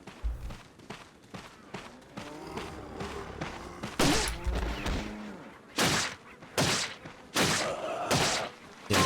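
Gunfire and heavy impacts from the Resident Evil 4 video game ring out in loud, irregular bursts, separate sharp blasts with thuds and crashes between them over a low game soundscape.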